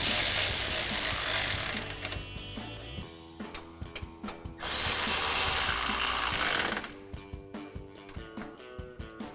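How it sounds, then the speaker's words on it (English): A ratchet with a 10mm socket tightens the headlight mounting bolts on a 2007-2013 Silverado 1500, a run of quick, close metallic clicks following stretches of louder broadband tool noise. "And tighten them down with our 10mm socket."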